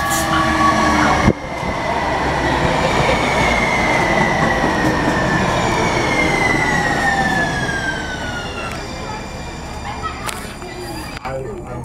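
A TRAX light-rail train enters the station with a loud, continuous rumble and screeching wheel tones that slowly shift in pitch, easing off near the end as it slows.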